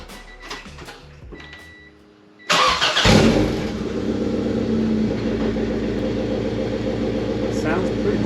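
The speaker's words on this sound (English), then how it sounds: "Let's see what it sounds like when it's first started" A B18-swapped Honda Civic fitted with a Yonaka cat-back exhaust and test pipe fires up after a few quiet seconds of faint clatter, then settles into a steady, fairly subdued idle heard close by.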